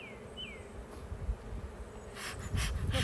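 Bees buzz around an open beehive during an inspection, with faint, close passing buzzes and light handling rustles at low level, and no talk.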